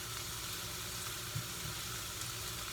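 Chopped garlic and onion sizzle in a hot pan for a sesame turmeric chicken sauce, giving a steady, close, continuous frying hiss with no voices.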